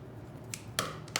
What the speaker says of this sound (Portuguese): Cortamos o excesso do zíper